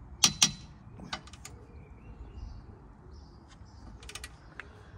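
Bolts under a ball joint on a Volkswagen Beetle 1.9 TDI being loosened a little at a time, with two sharp squeaky creaks up front and then scattered small metallic ticks and creaks, close and otherwise quiet.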